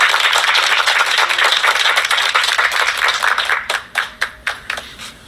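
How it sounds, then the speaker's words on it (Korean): A crowd in a gym applauds a presidential candidate, a dense loud wash of clapping that thins after a few seconds into a handful of distinct, slowing individual claps near the microphone. "뜨거운 박수 부탁드립니다."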